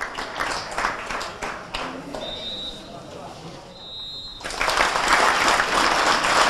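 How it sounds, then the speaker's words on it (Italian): Football fans at an Eccellenza league match between Nuorese and Tonara break into dense crowd applause after a minute of silence for a young supporter, a broad steady clapping wash that swells louder toward the end, with faint whistles and murmurs. "L'applauso del quadrivio"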